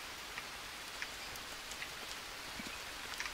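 Rain falls steadily in the survival video game Green Hell, a soft dense patter with scattered individual drops, quiet and continuous.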